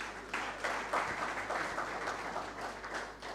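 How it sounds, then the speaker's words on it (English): A conference audience applauds the event sponsors at an insurance brokers' gathering in Uganda: dense, sustained clapping from a large crowd fills the room evenly, with no one speaking over it. "big round of applause to our sponsors?"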